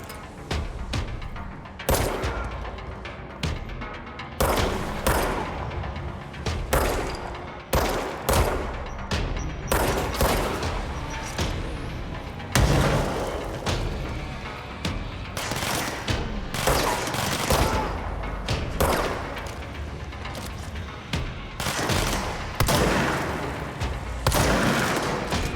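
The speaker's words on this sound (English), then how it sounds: "Oh, that one has a rocket launcher." Rocket launcher and gunfire in the video game Control, a dense run of loud repeated blasts and booms, roughly one every second or two, with heavy low thumps throughout.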